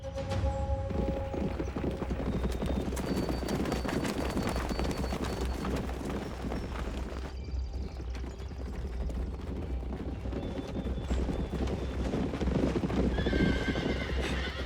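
Horses gallop in a fast film chase scene, a dense, continuous clatter of hooves with occasional neighs and whinnies, loud and close, with no talk.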